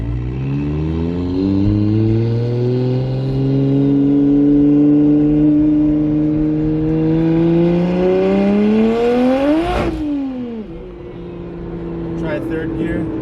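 A single-turbo N54 car accelerates hard in second gear on snowy ground, its engine note climbing steadily and loudly for about ten seconds before dropping sharply, then settling into a lower drone.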